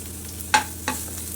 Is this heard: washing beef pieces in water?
no